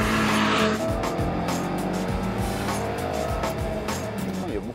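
A Renault Clio Williams's 150-horsepower engine roars at high revs near 6,500 rpm, with tire squeal and shifting pitch as the car is driven hard, loud and close throughout.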